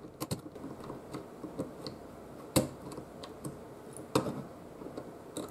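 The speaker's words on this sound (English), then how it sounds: "I'm going to be using a small flathead screwdriver to do that" A small flathead screwdriver pries a plastic collar off a gear inside an NEC CD-3010A CD-ROM drive, giving scattered light plastic clicks and ticks with a couple of sharper snaps, close up and with no talking.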